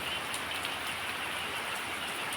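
Afternoon rain falls steadily on surfaces outdoors near a rural village house. The patter is dense and continuous at moderate loudness, with no voices.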